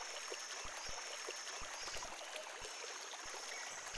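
A river running beside a rainforest path, heard as a soft steady wash of flowing water at a low level, with faint scattered thumps and a high constant insect-like hum over it.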